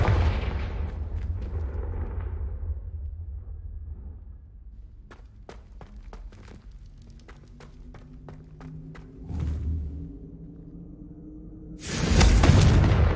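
Spell explosions from the Confringo curse in Hogwarts Legacy: a rumbling blast opens, then a run of sharp crackling pops and whooshes follows, and a loud, dense burst erupts near the end.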